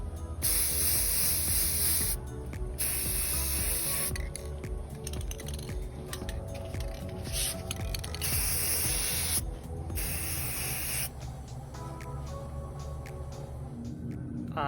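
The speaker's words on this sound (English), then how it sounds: "I decided to go ahead and spray paint them" Aerosol spray paint coating nightstand hardware, close hissing bursts in several separate passes with short pauses between them.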